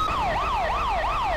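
A fire engine siren from the video game GTA 5 wails in a fast, steady up-and-down sweep, loud and close with nothing else audible.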